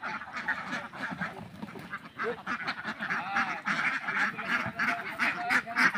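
Ducks quack in a dense, continuous chorus on a duck farm, many birds calling over one another at close range with no break.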